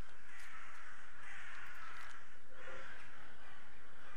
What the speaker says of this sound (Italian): Eccoli qua gli uccelli.